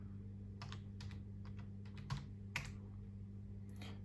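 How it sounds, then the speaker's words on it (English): A password is typed on a computer keyboard to log in over a terminal, a sparse run of light key clicks spaced irregularly across a few seconds, close and soft above a steady electrical hum, no voices. "type in the password"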